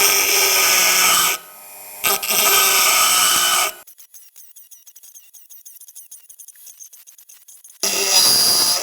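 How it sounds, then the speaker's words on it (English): A dull oscillating multi-tool blade is sharpened in bursts of harsh, loud high-pitched grinding with a brief gap between them, then a quieter stretch of rapid rattling before the grinding returns. "Let's give it a sharpen."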